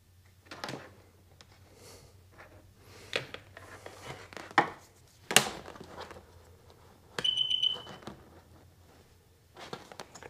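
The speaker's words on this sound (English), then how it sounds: "Triple beep." Electronics of a Sea-Doo XP DI personal watercraft give a short bright tonal beep burst around the middle, alongside scattered clicks, taps and handling knocks in a quiet space.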